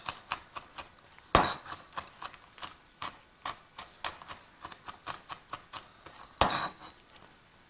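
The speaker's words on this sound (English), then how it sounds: "Hold one end of your knife and then chop it." A kitchen knife chops amaranth leaves (bayam, Chinese spinach) on a board in a steady, fairly loud rhythm of sharp knocks, with two heavier thuds mixed in.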